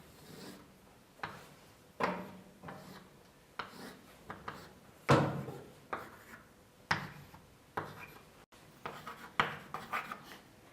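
Chalk or marker on a board during a mathematics lecture, a series of short scratchy strokes and taps in irregular bursts with pauses between, close and moderately loud, no talking.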